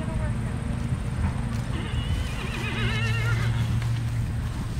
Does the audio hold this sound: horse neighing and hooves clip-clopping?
yes